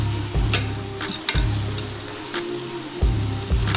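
Vegetables with bell peppers sizzle and hiss in a hot pan while being stirred, with repeated scraping clatters of the utensil over a steady frying crackle.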